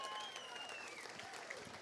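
Steady, dense applause from a crowd at a fishing tournament weigh-in, continuous clapping at moderate distance with no pauses.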